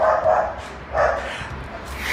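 A dog barks outdoors in a few separate mid-distance woofs spaced about a second apart, with a steady background hum of street noise beneath.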